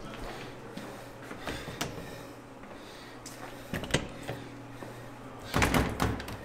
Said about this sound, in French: Je viens de prendre une porte, je voulais aller en haut.